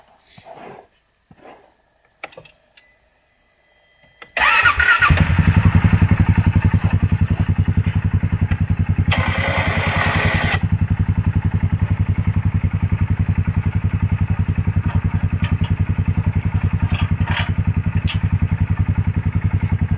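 A Polaris Sportsman 570 SP ATV fitted with a snow plow at a homestead: after a few quiet knocks, the engine starts and settles into a loud, steady running drone close by.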